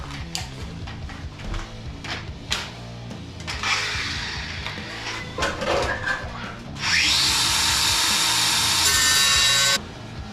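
A power saw cuts an arch shape through aluminium, with scattered knocks and scraping before a long, loud, steady high-pitched cutting whine that runs for about three seconds and then stops abruptly.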